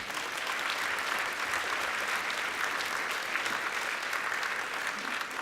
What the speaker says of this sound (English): let's give him a round of applause, first of all, for being here